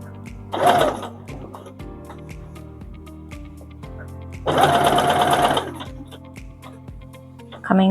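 Sewing machine running a long basting stitch on a zipped cushion cover, with two rapid mechanical bursts of stitching, a short one and then a longer run, separated by quiet ticking and handling.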